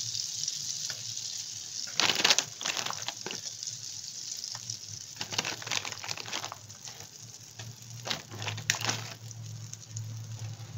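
Flour frying in butter with a mushroom and egg mixture in a pan gives a steady sizzle, with scraping and stirring bursts throughout.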